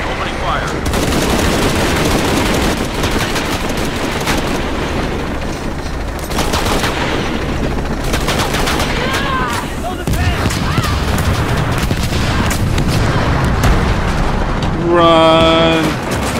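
Gunfire from a helicopter and explosions in the Shadow of the Tomb Raider video game at the Porvenir Oil Fields: loud repeated bursts and booms with voices talking throughout.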